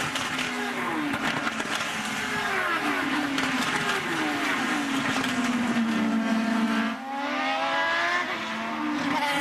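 IndyCar race cars at the 2010 Honda Indy 200 in Lexington, Ohio roar past with rising and falling engine pitch, a continuous loud drone of several cars racing close together.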